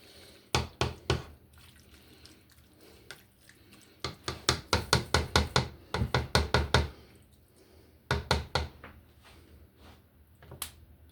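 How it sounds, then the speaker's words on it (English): Canned beans are drained, giving bursts of rapid knocking, glugging pulses from the can in three clusters separated by short pauses, fairly close and moderately loud. "Now I drain my beans Just so I get all that fucking crappy water out of there."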